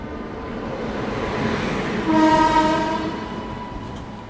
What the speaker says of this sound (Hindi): ये देखिए पीछे से कोई और ट्रेन आ रही है, इसको अराइवल जो है वो मिल जाएगा